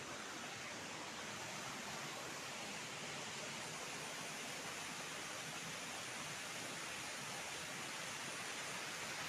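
A small village stream, a channel running past homes in Kerala, gives off a soft, unbroken rushing hiss of flowing water, steady and fairly quiet with no voices over it.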